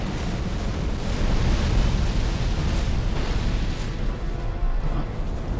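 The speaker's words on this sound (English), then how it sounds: "Certainly don't mind the fire breath attacks." The Old Iron King boss unleashes a fire breath attack in Dark Souls 2: a sustained, roaring, eruption-like blast of flame that surges and rumbles steadily for several seconds at moderate loudness.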